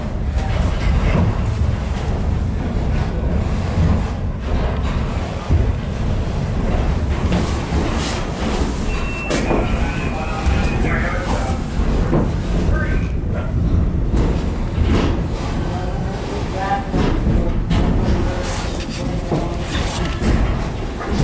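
Nevada Northern steam locomotive 93 shoving an ore train, heard from the caboose: a loud continuous rumble of rolling rail cars with creaks, squeals and clanks from the wagons, with occasional voices underneath.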